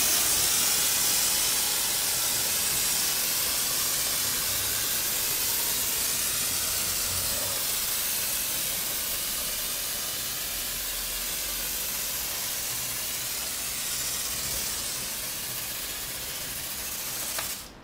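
Marolex pump sprayer with a dark blue high-foaming nozzle releasing foam in a loud, continuous hiss that tapers slightly over about eighteen seconds before a brief clatter at the end.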